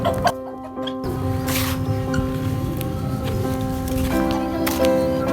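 Backyard chickens and a rooster in a pet enclosure clucking in short bursts amid continuous layered birdsong and chirps, fairly close, with faint background voices.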